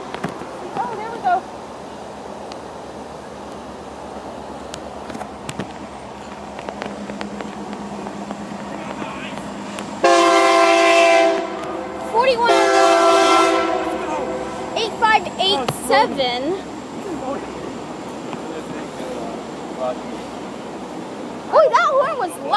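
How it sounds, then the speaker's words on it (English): A loud Union Pacific freight train horn blares in two long blasts over the steady rumble of the passing train, with people talking nearby in between. "Oh, here comes the Union Pacific freight train."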